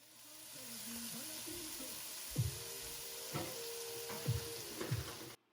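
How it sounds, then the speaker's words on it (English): Ground turkey sears in a very hot skillet with a constant hissing sizzle. Several soft thumps and a faint tonal hum break through near the end before it cuts off. "now we're going to add the ground turkey to the really hot pan"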